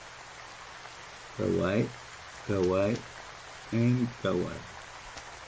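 A constant, faint wash of rain hisses through the background of the tower-building game Mad Tower Tycoon, steady and unbroken beneath a man's short spoken phrases.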